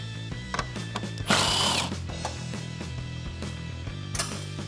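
A ratchet on an extension loosens 10mm grille bolts on a 2014-2015 Chevrolet Silverado 1500, giving close, quiet clicking and metallic ticks with one short louder scraping burst.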